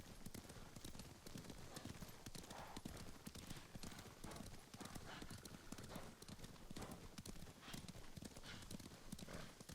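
Horses' hooves clip-clopping in the video game Ghost of Tsushima, a continuous rapid rhythm of close hoof strikes with occasional snorts, steady and loud throughout.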